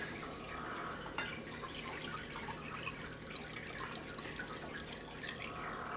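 Water pouring into a soup pot while making sausage and lentil soup with barley, a soft steady trickling and splashing at low level, continuous and close, with no talk over it.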